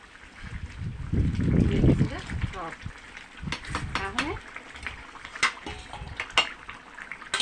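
Brinjal and eggs simmer in a covered pan of water, bubbling and sizzling in short bursts with stirring and clatter, loud at first then quieter, while a voice talks over it.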